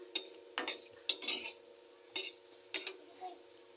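Bay leaves are stirred in a pot for mutton, heard as a string of separate metallic scrapes and clinks against the pot, fairly quiet and close.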